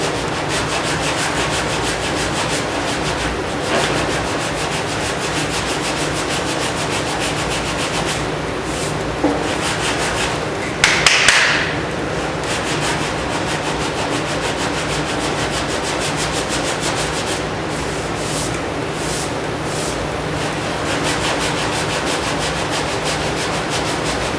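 Close, continuous abrasive rubbing comes from block sanding body filler over a low spot on a Camaro door, a steady rasping stroke rhythm lasting the whole stretch with a brief louder scrape midway.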